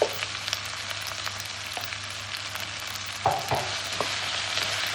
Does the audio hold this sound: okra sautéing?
yes